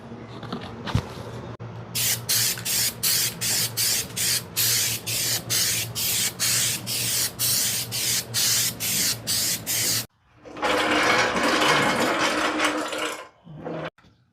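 Steel-It aerosol paint hisses from a spray can onto a vehicle subframe in a rapid series of short, even bursts, then one long continuous spray after a brief pause, close and loud.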